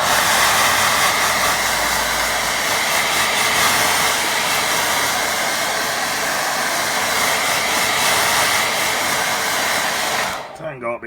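A hair dryer blowing on a watercolour painting, a steady loud whirring roar running close and continuous for about ten seconds before being switched off near the end.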